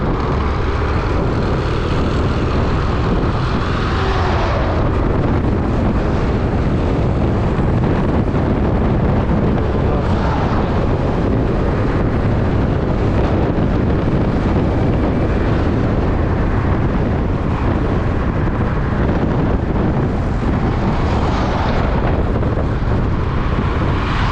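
A Suzuki Address V125 scooter ridden at speed on a road, heard as a steady, loud roar of wind rushing over the microphone with a constant engine drone underneath, unbroken from start to finish with no talking.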